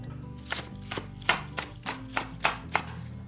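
Knife chopping red bell pepper on a cutting board while preparing a meal-prep salad, about eight crisp, fairly regular strokes at close range with no talking.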